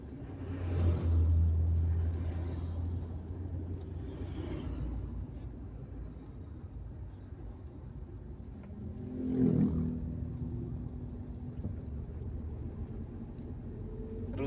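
Heavy trucks crawl in dense traffic on the Trans-Sumatra highway at Betung, Banyuasin, giving a low rumbling engine drone with two louder revving swells, one near the start and one mid-way.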